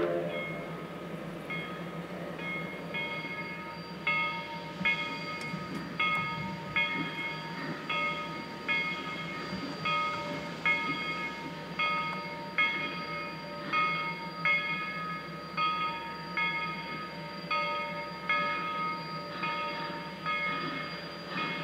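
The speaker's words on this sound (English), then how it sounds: "all four locomotives would pull two separate trains to Chama" Locomotives pull trains toward Chama: a sustained chord-like whistle sounds throughout over steady rhythmic chugging beats, moderately distant and alone without talk.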